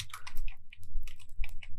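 Keys clacking in quick, irregular bursts on a computer keyboard while text is entered in Microsoft Word, with close, crisp clicks over a low steady hum.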